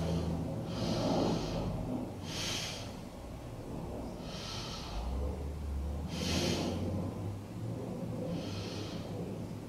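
Slow deep yoga breaths drawn in and pushed out through the nose during a seated twist, five audible exhalations spaced a couple of seconds apart, close and breathy over a faint low room hum.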